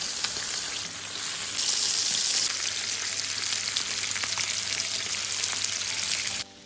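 Fish stuffed with ginger and onion sizzles steadily in soybean oil on an iron griddle, a loud continuous frying hiss that stops abruptly at the end.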